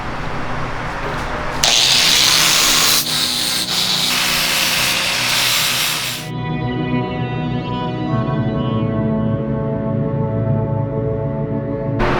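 A power tool whirs loudly and steadily up close while bolting parts onto a truck, with a sharper high burst for a few seconds before it winds down into a lingering ringing hum.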